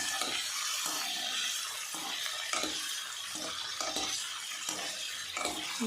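Capsicum and paneer shallow frying in a kadhai with a ladle of oil, a continuous close sizzle with a regular rhythm of ladle strokes scraping and stirring through the pieces, no talk.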